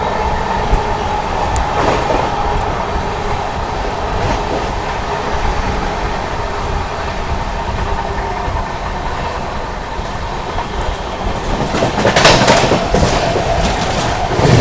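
Mahabodhi Express train running through Shikohabad Junction without stopping, giving a continuous close rumble of wheels on track with rhythmic clatter and a brief louder burst near the end, no voices.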